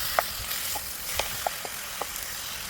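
Onions and tomatoes sauté in a pan, giving a soft, low sizzle with a few light clicks and scrapes of stirring spaced through the moment, quiet and close.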